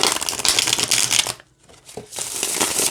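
A Kawaii Tarot card deck is riffled and shuffled by hand, giving a dense, crisp flutter of cards that stops for a brief pause and then resumes, close and fairly loud.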